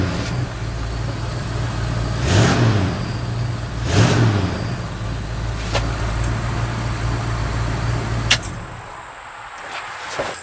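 A 1969 Ford F100 pickup engine runs with a fairly quiet exhaust, rising in two distinct revs before settling back to a smooth idle and then dropping off near the end.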